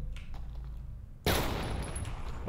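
In a retro-style cosmic horror FPS video game, the player shoots a mine. Quiet ambience gives way to a sudden loud burst of rapid gunfire and explosive noise that stays dense and sustained to the end.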